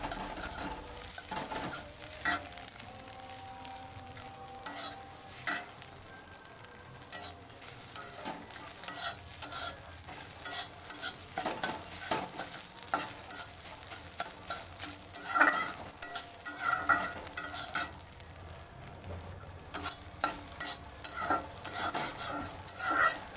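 An egg fries in a pan, browned on purpose, with a steady soft sizzle under frequent scraping and tapping of a spatula against the pan, close and moderately quiet with no voices.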